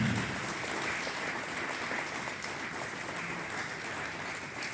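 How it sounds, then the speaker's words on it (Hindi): Audience at an event in a marquee in Islamabad applauding, a fairly soft, continuous patter of clapping throughout with no speech. "मैं चाहूंगा आपकी भरपूर तालियों में"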